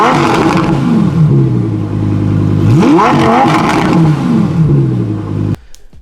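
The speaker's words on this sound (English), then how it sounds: "Just listen to the glorious sound, the glorious naturally aspirated V10." A 2020 Lamborghini Huracán EVO RWD's naturally aspirated V10 roars up and down through several sharp rising and falling revs, loud and close, then cuts off abruptly.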